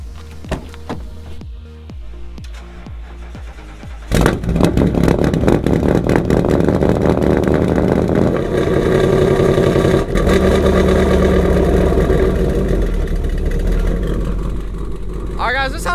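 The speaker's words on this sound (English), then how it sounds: "Let's do a cold start on this thing, even though it's hot outside. I just want to hear y'all, let y'all guys hear the exhaust." Ford Mustang GT V8 with aftermarket headers and a missing intake air box, cold-started in hot weather: a few cranking pulses, then the engine catches and settles into a loud, rumbling exhaust idle that runs on steadily.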